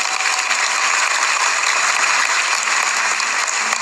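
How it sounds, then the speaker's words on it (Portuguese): Church congregation applauding together in a sustained, even wash of clapping at moderate level, with no voices on top. "Vamos aplaudir o Rei da Glória."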